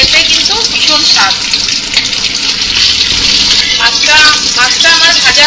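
Foli fish fries in oil with a loud, close, continuous sizzle and bubbling, while a person talks over it throughout.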